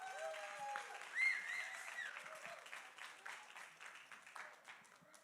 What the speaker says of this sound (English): So can everyone just clap for Benny really quick?